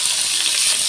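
Onion and green chilli sizzle steadily in hot oil with five-spice seeds in a hot pan for a Bengali fish curry, a dense, even hiss that is close and continuous.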